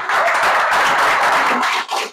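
Audience applause at a sales training event in Hyderabad fills the room as a dense, steady wash of clapping that holds for about two seconds, then drops off sharply at the end.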